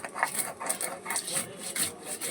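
Mustard seed spice paste ground by hand on a stone slab with a little water, giving a steady back-and-forth rasping scrape that repeats in quick strokes, fairly close and alone.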